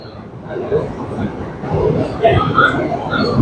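A subway train rides toward Coney Island, a steady rumbling rattle of the moving car with faint squeals, loud and close from inside, while people talk over it.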